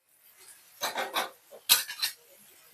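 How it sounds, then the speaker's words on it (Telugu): Flat beans with salt being stirred in a pan for a garlic-chili fry, giving a few short bursts of scraping and clinking utensil-on-pan sounds, close and moderately loud, separated by quiet pauses. "కాబట్టి ఇవన్నీ బాగా కలుపుకుంటున్నాను"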